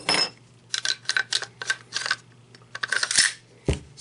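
An AR15 bolt carrier is slotted back into the rifle during a Devil Dog Concepts side charger install, giving a quick run of close metallic clicks and scrapes that ends in a firmer clack.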